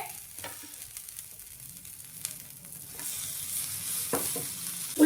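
Mixed vegetables cooking in a pan with butter or ghee: a soft sizzle builds and grows brighter partway through, broken by a few scraping stirs and a sharper clatter at the end, with no speech.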